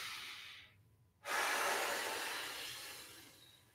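A single long breath out during a shiatsu stretch, a close airy hiss that starts sharply after a brief pause and fades slowly over a couple of seconds.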